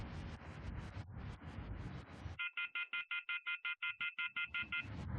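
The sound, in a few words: phone ringing while calling someone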